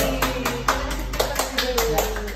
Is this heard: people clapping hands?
yes